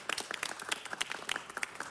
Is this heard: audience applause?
yes